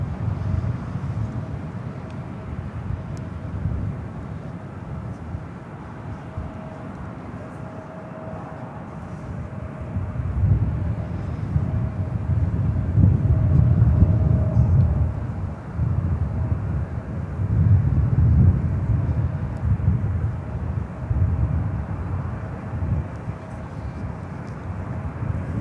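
A jet airliner takes off from runway 28 left at San Francisco International Airport, a broad low engine roar heard from a distance that swells and fades in waves over a steady rumble.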